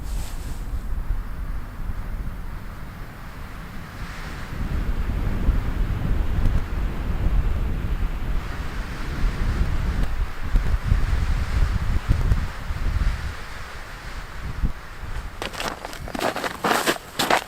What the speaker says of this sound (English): The wind is just blowing hard across the lake